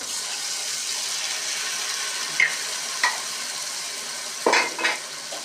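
A spice mixture of pepper, cumin, shallots, dried red chilli, ginger and garlic frying in oil for an egg dish, a steady hiss of sizzling with a few sharp scrapes of a spoon against the pan.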